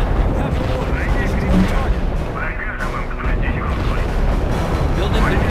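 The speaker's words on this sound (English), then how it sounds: "Unit reports heavy fire" Gunfire and explosions crackle and boom in the real-time strategy game R.U.S.E. Heavy artillery thuds and bursts of shots overlap loudly, and radio-style voice reports cut in through the din.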